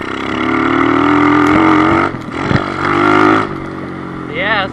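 A Kawasaki KLX110 pit bike engine revs up and down close by, its buzzing tone rising and falling in a few quick pulls with a short dip between.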